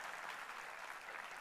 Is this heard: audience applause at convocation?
yes